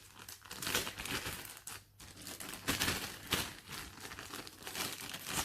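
Packaging for a Blaupunkt Bremen SQR 46 DAB+ Bluetooth radio is handled and opened, with close crinkling, rustling and tearing bursts that rise and fall without a break.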